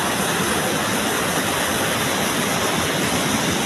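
Baby Falls, a waterfall that supplies drinking water to two barangays, roars in a steady, dense rush of falling water, loud and close, with no break or voices.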